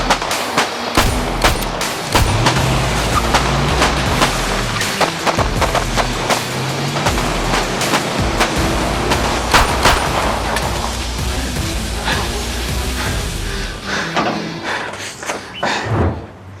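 Rapid bursts of gunfire crackle through a loud, chaotic comedy-series police ambush scene, with sharp shots repeating irregularly over roughly sixteen seconds and some shouting mixed in.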